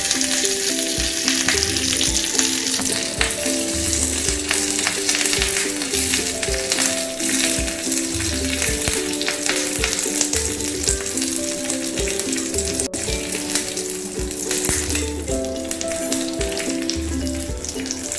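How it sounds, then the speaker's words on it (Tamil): Mustard seeds spluttering in hot oil, a loud dense crackle of rapid popping that runs continuously and close up throughout. "இப்போ அதில் வந்து கொஞ்சம் கடுகு போட்டுறேன். இப்போ கடுகு பொரிஞ்சிச்சு"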